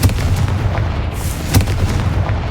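A Confringo fire spell exploding in Hogwarts Legacy: a loud, close, booming blast that rumbles throughout, with a sharper burst cracking partway through.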